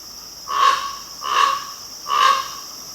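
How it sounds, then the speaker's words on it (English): A crow caws three times at an even pace, each call harsh and moderately loud, from a short distance over a steady outdoor hiss, with no voices. "That's the sound of the bird that was going nuts, a crow"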